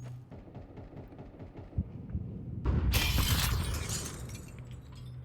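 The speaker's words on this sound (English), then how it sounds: "Sound like they were trying to break the glass on the top site." Glass shattering in Counter-Strike 2 during a pro match at BLAST Open London 2025, a sudden loud crash and crackle of breaking glass near the middle that rings out over steady game ambience and footsteps.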